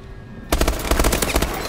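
Bulldog shotgun fired in Call of Duty Advanced Warfare, a rapid loud burst of close repeated shots starting abruptly after a quiet half second and continuing steadily to the end.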